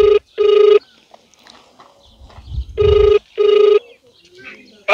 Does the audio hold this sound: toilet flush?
no